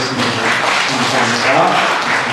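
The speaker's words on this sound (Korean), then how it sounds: "박수로 받아보겠습니다." A church congregation applauds during a Sunday morning worship service, giving a sustained, dense round of clapping at close range with some voices mixed in, lasting throughout.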